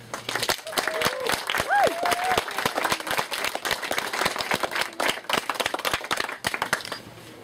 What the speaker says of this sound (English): Please give a round of applause for Larry Norse